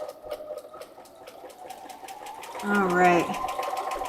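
A sewing machine stitches a quilt in a rapid, steady run of close mechanical pulses, with a short spoken remark over it.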